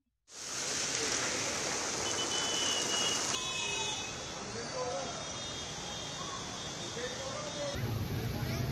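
Heavy rain falls at night in Old Rajendra Nagar, Delhi, a dense, loud and steady hiss that goes on throughout, with a narrator speaking over it.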